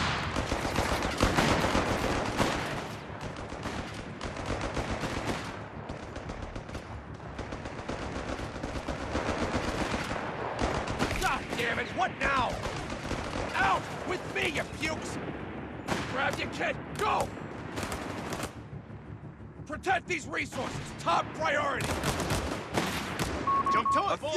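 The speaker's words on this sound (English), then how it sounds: "Shooting at us! Shoot back!" Gunfire crackles through a Company of Heroes 3 battle in Naples during the Italy campaign, with dense machine-gun bursts and scattered rifle shots rolling on continuously, mixed with shouted voices and battle noise.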